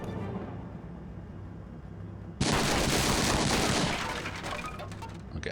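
Gunfire bursts out from a World War II tactical game on a hard-difficulty factory map, a dense loud barrage starting partway through and running steadily to the end over a low background hum.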